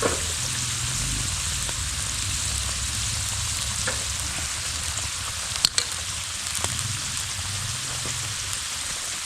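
Seasoning frying in a pan, a continuous dense sizzle with a few sharp clicks and taps of a utensil partway through, close and steady, no talk.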